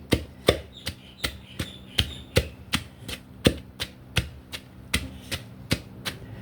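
Star gooseberries pounded with a wooden pestle in a mortar for a spicy salad: a steady run of about thirteen sharp, evenly spaced thuds, close and alone, with a faint scraping in between.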